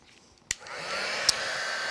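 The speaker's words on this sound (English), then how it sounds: "So I will use my heat tool." A heat tool drying a craft card blows a steady, close whooshing hiss after a sharp click switches it on, with another brief click partway through.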